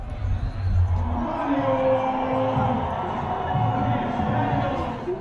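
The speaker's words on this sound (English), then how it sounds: "The crowd goes off." A crowd at a football freestyle contest cheers and whoops loudly and without a break, a dense roar of many voices that fills the whole stretch.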